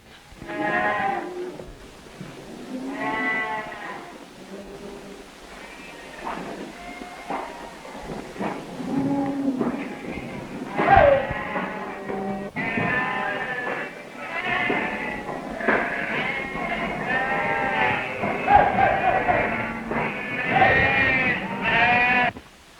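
Lambs on prepared farm pasture bleat repeatedly, several overlapping voices calling near and far in a continuous chorus with brief gaps between cries.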